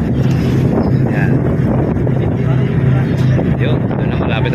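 Strong wind buffeting the microphone aboard a boat approaching the Mindoro shore, a loud constant roar with a low engine hum underneath and voices talking through it.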